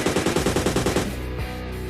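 Automatic gunfire in the PUBG Lite video game: a fast, loud burst of about ten evenly spaced shots, then a trailing echo as the firing stops.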